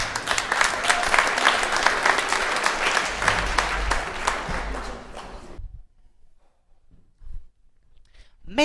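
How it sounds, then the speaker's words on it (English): Loud audience applause at a community talent show after a comedy act, dense steady clapping that cuts off abruptly, followed by near silence with a few faint sounds. "Give them a big round of applause."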